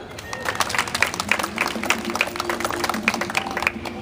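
Audience applauding at a municipal authorities' presentation ceremony, a steady patter of many hands clapping at moderate distance, sustained throughout with no talking.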